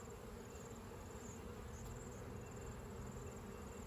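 Honeybees, gentle Ben's bees stock, hum around an open hive frame held up during an inspection, a steady low drone that stays even and close throughout with no voices.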